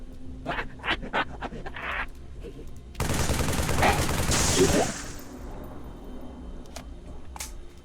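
A dense burst of rapid gunfire in the video game Halo 3: ODST erupts for about two seconds, loud and continuous, between quieter stretches of scattered shuffling and clicks.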